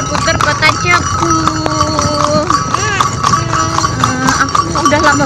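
Horse hooves clip-clop steadily on a street in Cepu, Blora during a ride through town, close and continuous, with occasional whinnies and background chatter and music from the surroundings.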